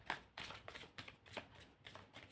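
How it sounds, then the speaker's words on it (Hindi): Tarot cards being shuffled by hand, a series of soft crisp riffling bursts in an uneven rhythm, close and quiet, with no talk. "My last shuffle"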